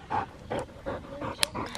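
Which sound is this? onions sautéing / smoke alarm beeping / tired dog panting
tired dog panting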